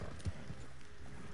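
Horse hooves clip-clop in the Red Dead Redemption 2 video game, a brief run of soft, close hoof falls on dirt over a low background rumble.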